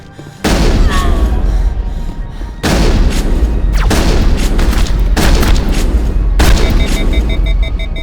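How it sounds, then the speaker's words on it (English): Shotgun blasts in the Mass Effect video game, four loud booming shots spaced a couple of seconds apart, each with a long rumbling decay and crackle, heavy and close. "Shotgun is so powerful."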